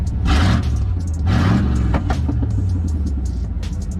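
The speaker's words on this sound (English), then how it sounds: "It's just a burble tune, that's all it is." A 1990s GMC Yukon with a burble-tuned exhaust revs loudly up close, its deep rumbling idle rising into two sharp throttle blips before settling back to a low, crackling burble.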